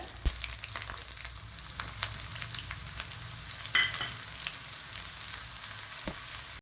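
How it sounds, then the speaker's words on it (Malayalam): Oil crackles and sizzles steadily in a pan as chopped shallots fry, with a few sharp pops and a brief scrape of stirring; no voices. "ഇതിലേക്ക് ഒരു കുഞ്ഞുള്ളി കട്ട് ചെയ്ത് ചേർത്ത് കൊടുക്കുക"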